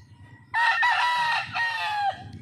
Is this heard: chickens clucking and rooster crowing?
yes